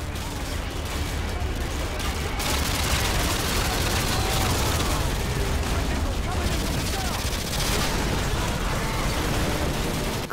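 Hip-fired gunfire in the video game Modern Warfare, a continuous loud barrage of rapid shots and blasts that fills the whole stretch, with a voice partly buried in the din.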